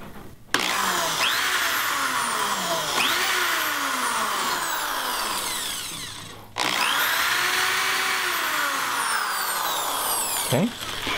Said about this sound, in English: I'm going to do some pilot holes here to get this board attached to the leg